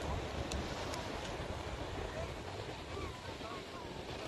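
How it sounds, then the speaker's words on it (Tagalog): Strong surf rolls in at the Ko Olina beach lagoon on Oahu, a steady, faint broadband wash with wind buffeting the microphone throughout. "Lakas ng alon."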